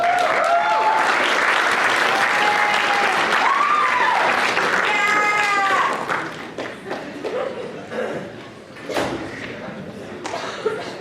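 A student leadership summit audience applauds loudly for about six seconds, with whoops or shouts riding on top. The clapping then thins into scattered claps and thumps as people settle.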